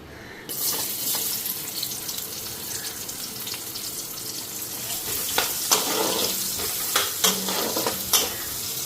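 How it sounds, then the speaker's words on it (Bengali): Sliced onion fries in oil with a continuous close sizzle, with stirring scrapes and clicks growing more frequent toward the end. "পেঁয়াজটা হালকা ভেজে নিলাম"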